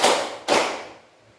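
Group of people clapping in unison during a classroom teaching practice session: two sharp, loud claps about half a second apart, the second ringing out and fading into quiet.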